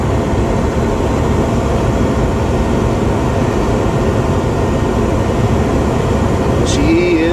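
A homebuilt RV puller truck cruises on the road at about 60 to 65 miles per hour, giving a steady, loud, broadband roar of road and engine noise with no rises or breaks.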